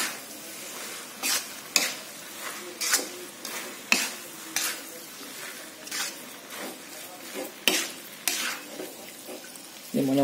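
Mie goreng noodles are stir-fried in a wok that is a bit too small, over a lowered flame, with repeated scraping and tossing strokes of a spatula over a soft steady sizzle.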